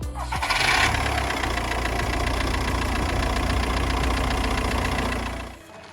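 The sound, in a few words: Audi A4 B7 2.0 TDI diesel engine starting and idling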